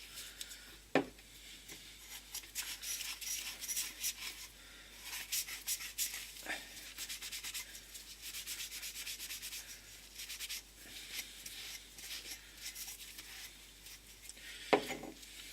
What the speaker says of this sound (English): you're just giving it a light wipe over, just to protect the metal from any rust or corrosion